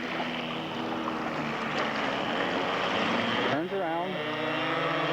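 A scale model Supermarine Air Yacht seaplane drones steadily with a loud engine hum, touching down on water for a spot landing; a voice commentates over the continuous motor noise, which shifts in pitch near the end.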